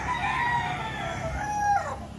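A rooster among a flock of cockerels and stags being fed crows once, a short bright cock-a-doodle-doo rising and falling, fairly close and clear over a quiet yard.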